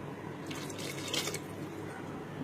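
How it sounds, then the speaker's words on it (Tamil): Water is poured into a pot of mushroom curry with ground masala, giving a soft, brief splashing trickle that stays fairly quiet and close. "கொஞ்சம் தண்ணி சேர்த்து"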